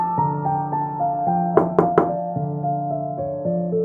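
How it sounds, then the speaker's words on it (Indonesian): Three sharp knocks on a bedroom wall at night sound close together, cutting through a steady background drone. "aku mendengar suara ketukan"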